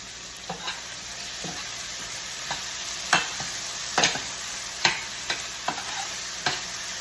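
Fish and spice fry in a pan of oil, with a steady sizzle and scattered sharp pops and crackles of splattering spread unevenly through the clip, with no voices.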